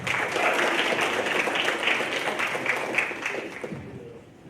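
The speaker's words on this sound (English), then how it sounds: "Let's give a warm round of applause for Patrick as he comes to the stage." An audience at a social justice day soapbox speech event applauds warmly as a speaker walks to the stage, a sustained wash of many hands clapping, moderately loud, tapering off near the end.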